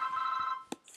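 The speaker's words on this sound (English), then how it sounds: "That was my phone." Mobile phone ringing, a short faint electronic ring tone held steadily for about half a second, followed by a few soft clicks and handling noises.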